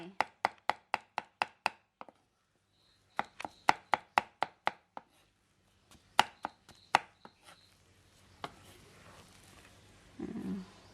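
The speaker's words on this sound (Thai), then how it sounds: "สับแล้วก็เก็บไว้" Meat is chopped finely with a knife on a board for Thai laab, rapid sharp rhythmic thwacks in bursts with short pauses, close and crisp, followed by quieter rustling and handling noise.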